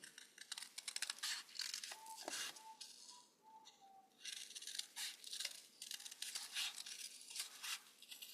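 Scissors trimming a paper hedgehog craft, with quiet repeated snips and rustling paper in a calm indoor setting.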